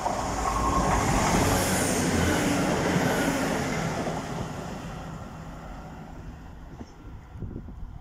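A Class 170 diesel multiple unit, 170-102, passes through Attenborough station on the Midland Main Line with a loud rolling rumble and rail noise that gradually fades as the train moves away.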